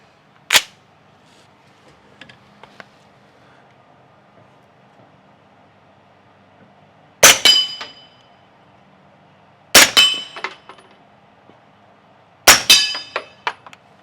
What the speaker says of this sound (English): I'm gonna fire 3 rounds of the subs so you can see how quiet the subs are versus the supers.